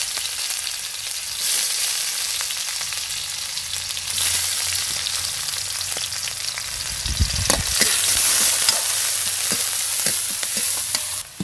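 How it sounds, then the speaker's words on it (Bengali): Onion frying in a pan, a continuous close sizzle with spatula stirring and scraping, a brief heavier clatter partway through, no talking. "পেঁয়াজটাকে ভেজে নেব।"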